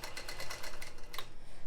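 Longarm quilting machine stitching a quilt, giving quick, soft, regular ticking stitches with a light mechanical hum underneath, close and fairly quiet.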